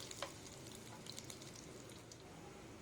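Finely chopped garlic frying in hot refined oil in a pan, a soft steady sizzle with faint crackles running throughout, close but quiet.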